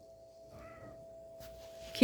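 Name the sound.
large cat meowing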